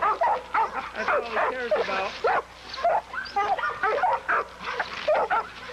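A dog in a kennel yard barks and yips repeatedly at another dog nearby, dense loud barking with brief whimpers, while someone talks over it.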